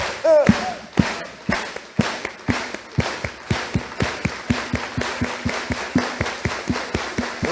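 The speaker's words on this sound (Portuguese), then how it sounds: "So, let's clap." A church congregation claps in a steady, quickening rhythm, dozens of crisp, evenly spaced claps ringing out, with a brief voice near the start.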